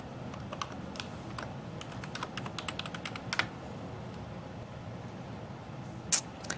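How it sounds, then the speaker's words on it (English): Fingers tap out a password on a computer keyboard, a quick run of light, close key clicks followed by a pause and a single sharper keystroke near the end. "Type in the password."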